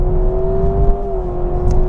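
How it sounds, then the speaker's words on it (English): A 2026 Honda Prelude hybrid pulls hard in sport mode with traction control reduced, its engine a steady, loud droning hum with a slight whine for about two seconds, close up inside the cabin. "Different engine sound, of course."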